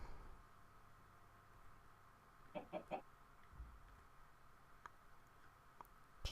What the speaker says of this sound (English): Hello, station chicken.